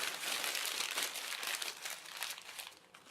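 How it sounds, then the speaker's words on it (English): Wet newspaper being crumpled by hand, close and fairly quiet, with a continuous run of soft crinkling and squishy crackles that fades slightly toward the end. "Now you're just going to crumple it."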